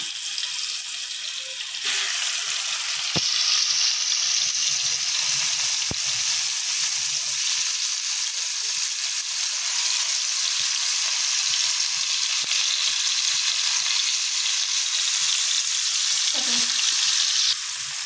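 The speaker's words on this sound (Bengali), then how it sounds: "এবার আমরা মাছ দিয়েছি ফ্রাই করার জন্য" Steady, loud crackling sizzle of marinated fish frying in hot oil, continuous throughout with a few faint clinks and no talking.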